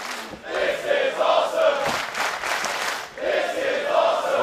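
A wrestling crowd at a live event in Perth chants loudly and rhythmically in unison, the massed voices rising and falling in repeated phrases with a brief dip mid-chant, no individual speech standing out.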